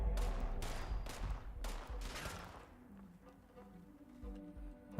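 A reward cannon in a video game firing fireworks gives a burst of rapid crackling blasts that trails off into scattered fainter pops, with no talking over it.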